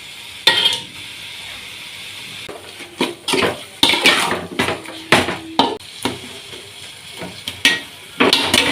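Chicken stirred and heated in a pan for biryani, with irregular scraping, clinking and sizzling bursts from a utensil against metal, close and moderately loud, no talk.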